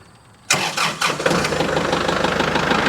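A Kubota MX 5800 tractor engine cranks briefly and catches, then settles into a steady, close idle.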